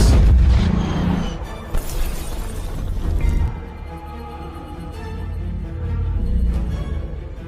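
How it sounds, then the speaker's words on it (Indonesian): A tank shell fired at a watchtower in a war film battle between German Panther tanks and a Soviet T-34: a loud blast and shattering crash, then rumbling debris and echoing booms that slowly fade. "Kemudian Nikolai menembakkan peluru kedua tepat ke menara pengawas."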